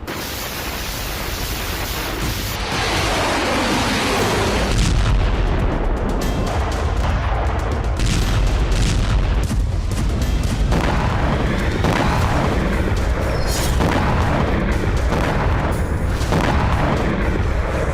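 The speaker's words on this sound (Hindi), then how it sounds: "MLRS और टैंक से गोलाबारी की गई।" Shelling from MLRS rocket launchers and tanks in the Russia-Ukraine war rolls on as dense, continuous booming and rumbling with repeated sharp blasts, loud and broadband, without any speech.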